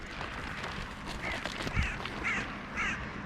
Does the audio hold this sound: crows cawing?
yes